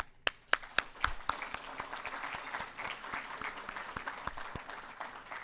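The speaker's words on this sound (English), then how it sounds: "Please, a round of applause to our co-presenting sponsor, Beach Westgard." Lunch-event audience applauding a co-presenting sponsor, opening with a few sharp, close individual claps before settling into steady, moderately distant applause from the room.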